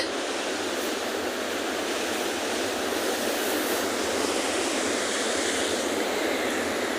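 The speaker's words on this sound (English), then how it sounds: "And Carter, crashing waves are one of the best parts of shooting down here at World's Edge, because this is just straight Atlantic past us" Atlantic surf crashes against the shore at World's Edge near a penguin beach, a dense, continuous wash of breaking waves that stays loud and steady without clear gaps.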